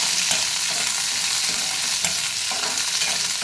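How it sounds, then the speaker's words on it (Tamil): Okra sizzles loudly and steadily in hot oil, with occasional stirring scrapes and no talking. "எண்ணெயில் போட்டு முதல்ல கொஞ்சம் நல்லா வதக்கினாக்க"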